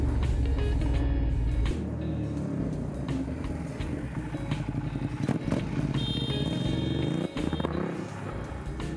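Motorcycle engines roar and rev through loud, continuous traffic noise, with vehicles passing close by.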